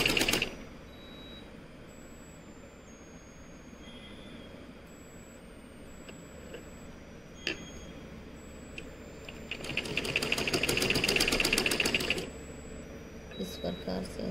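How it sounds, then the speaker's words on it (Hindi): A sewing machine stitches the edge of a fabric square neckline, a fast, even mechanical whir that runs for a couple of seconds after quieter handling sounds, with a voice talking around it. "किनारे की सिलाई लगाएंगे"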